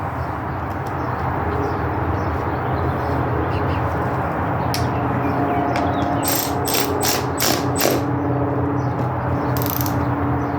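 A ratchet tightens bolts on a 1975 Yamaha 175 barn-find motorcycle, its rapid clicking bursts coming in a short run of strokes over steady background noise.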